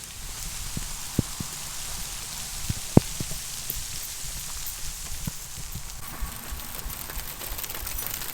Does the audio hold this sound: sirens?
no